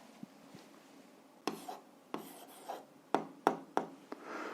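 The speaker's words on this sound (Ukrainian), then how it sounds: "записуємо відповідь, пишемо відповідь" A pen writes an answer to an algebra exercise, a series of short scratching strokes against paper, faint at first and then sharper and more frequent, heard close with no talking.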